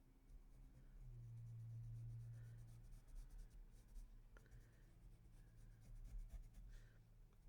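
A General Pastel chalk pencil scratches across paper while tracing around drawn hearts, a faint close-up scraping made of short strokes and longer steady passes in a quiet room.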